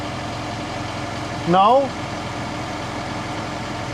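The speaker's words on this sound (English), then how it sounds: "the hydraulic fan is running" A steady mechanical drone of a running CLAAS ARION 400 tractor's hydraulic fan and engine continues throughout, with a single short spoken word partway through.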